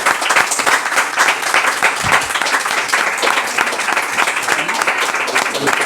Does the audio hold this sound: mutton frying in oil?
no